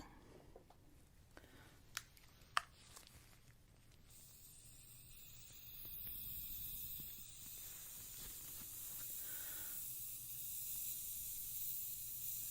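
Mist spray during an ASMR face assessment roleplay: after a few soft clicks and taps, a faint, steady hiss rises and holds, with a fine spray texture through the second half.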